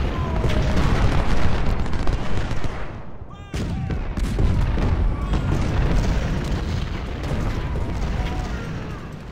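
Gunfire and artillery in the Ultimate General: Civil War game, a loud, unbroken rolling barrage of musket volleys and cannon booms with one brief lull midway, while someone speaks now and then over it.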